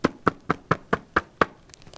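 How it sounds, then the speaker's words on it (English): Knuckles rap on a door seven times in a steady, even rhythm, each knock crisp and close, followed by a faint trailing tap. "Izzy knocked on the door"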